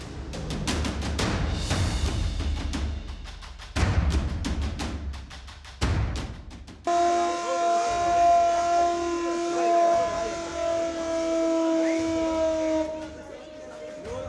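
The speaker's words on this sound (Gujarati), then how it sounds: "આ સાયરન કેવું હોય છે એ પણ જોઈ લો." A loud siren wails with a steady rising tone in the second half during a mock drill, preceded by a rapid series of clattering, chopping bursts and background voices.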